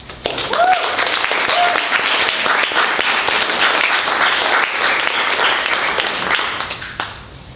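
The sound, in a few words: audience applause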